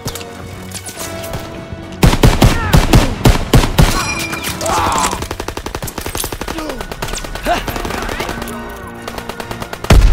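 Machine gun fire rattles through the D-Day landing in the Call of Duty: WWII campaign: loud, close bursts of rapid shots with scattered gunfire and impacts between them.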